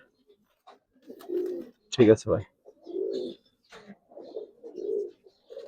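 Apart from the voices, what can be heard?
Giribaz pigeons cooing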